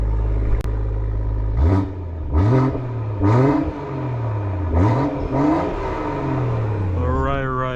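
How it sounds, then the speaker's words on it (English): A BMW M140i's B58 inline-six revs repeatedly while parked, sending out about six sharp, loud blips that rise and fall with a steady idle rumbling between them. Someone briefly speaks in the background. "let's stop the talking now and have a listen at this beautiful in-row 6 BMW."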